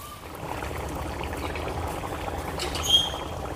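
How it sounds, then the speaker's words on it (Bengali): Water pours steadily into a pot of Gobindobhog rice, a continuous close splashing rush that swells slightly near the end. "পরিমাণ মতো জল দিয়ে দিলাম, এই জলেই পুরো চালটা সেদ্ধ হয়ে যাবে।"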